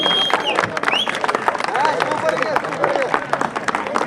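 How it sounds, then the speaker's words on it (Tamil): Crowd clapping at a Tamil temple festival for Sri Kamakshi Amman with Valli Kummi dance, a dense steady burst of hand claps mixed with crowd babble and a few whistle-like tones throughout. "நல்ல கைத்தட்டி கொடுக்கலாம் எல்லாரும்."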